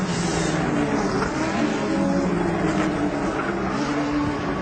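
GP2 race cars at an Italian circuit in 2008 drone past with a continuous, fairly faint engine roar, steady and unbroken, heard at a distance through a muffled broadcast feed.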